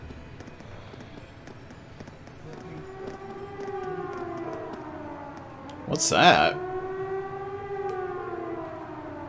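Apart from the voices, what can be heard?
siren sounding from the fort in the video game Trails of Cold Steel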